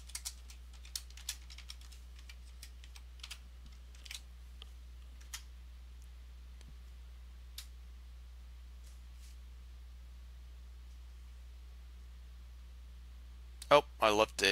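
A password typed on a computer keyboard, with quiet, scattered key clicks in a few short bursts, then a long near-silent pause before a louder cluster of taps at the end.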